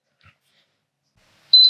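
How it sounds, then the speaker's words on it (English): A Vevor 3-in-1 auto hat press machine sounds one short, high electronic beep at the very end to signal it has reached temperature, after near silence. "it just keeps beeping that you're at temperature"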